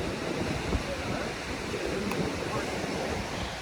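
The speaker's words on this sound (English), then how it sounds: "Oh, these waves are coming up." Ocean waves washing onto a rocky beach with barnacle-covered rocks, heard as a steady, loud broadband roar of surf with continuous wash and no distinct breaks, close and dominant throughout.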